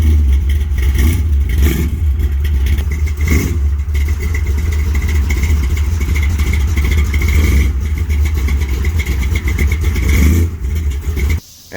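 A rough project car engine runs loudly and steadily, with uneven revving surges and a deep rumbling idle, close up and continuous for about eleven seconds before it suddenly cuts.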